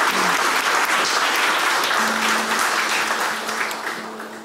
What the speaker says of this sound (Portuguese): Uma salva de palmas a ela.